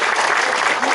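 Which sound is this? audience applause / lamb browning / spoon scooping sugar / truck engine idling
audience applause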